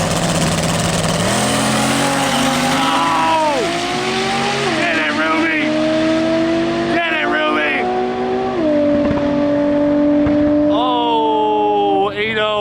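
A car engine revs repeatedly, rising and falling in pitch with loud exhaust puffs out the stack, close and prominent, while people talk over it.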